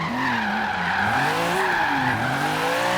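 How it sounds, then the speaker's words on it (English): A BMW M3 E36 straight-six engine in Forza Horizon 3 revs hard and continuously, its pitch rising and falling as the car drifts, mixed with tire squeal, loud and steady throughout. "God, you gotta love this straight six engine, man. Such a nice sound."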